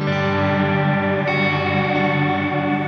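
A sustained, heavily distorted guitar tone through a Strymon reverb pedal's drive setting rings out thick and buzzing, with a smeared chorus-like shimmer and no talking.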